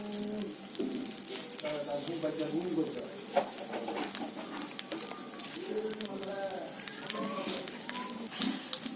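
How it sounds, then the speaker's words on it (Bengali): Nigella seeds sizzling in hot oil left over from frying prawns, a crackling hiss under a voice with birds cooing and chirping in the background. "মাছ ভাজা ওই তেলের মধ্যে আমি কালো জিরে দিয়ে দিচ্ছি"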